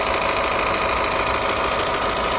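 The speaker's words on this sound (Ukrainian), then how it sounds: "Рівненька робота двигуна." A Honda CR-V engine idles close by, a smooth continuous rumble with an even mechanical hum and no other sounds.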